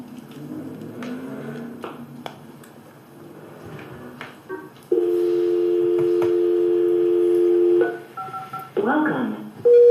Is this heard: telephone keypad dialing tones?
yes